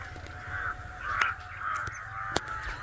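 Crows caw behind a village house, a few harsh calls repeating at a moderate distance over a faint, steady outdoor background.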